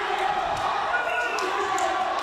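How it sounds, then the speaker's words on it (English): A wrestling crowd at a WWN event roars with cheers and chanting for 305, a dense, steady wall of many voices filling the arena without a break. "The crowd cheering 305."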